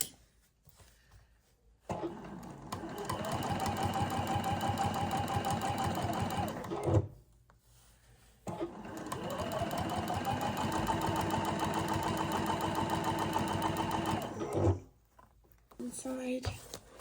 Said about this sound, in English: you're going to stitch along each edge of the ribbon